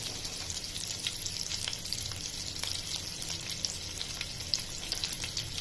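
Green chillies and a pinch of asafoetida sizzle in hot oil in a pan, producing a loud, even, close crackling hiss that runs steadily throughout with no voices.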